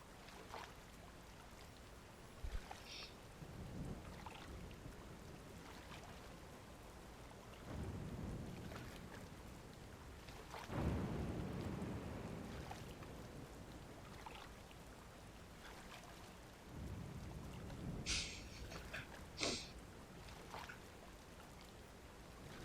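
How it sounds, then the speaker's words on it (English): Rain falls steadily in The Legend of Zelda: Tears of the Kingdom, quiet and constant, with low rumbles of thunder swelling several times and a few sharp ticks and taps on top. "Can it stop raining, please?"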